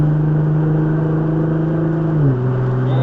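A car engine at a track day driving event holds a steady, loud, rising drone as the driver feeds in more throttle, then the pitch drops briefly near the end as the revs shift.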